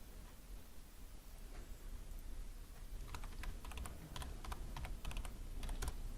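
A computer keyboard clatters with a quick run of faint keystrokes over steady background hiss, starting sparse and becoming denser toward the end.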